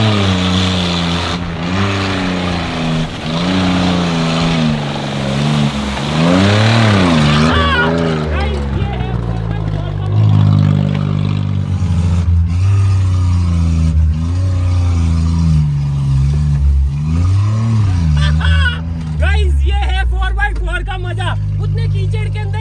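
A Maruti Alto rigged with a second Alto into a four-wheel-drive setup grinds through deep mud, its engine loud and straining with rising and falling revs throughout, and voices talking over it.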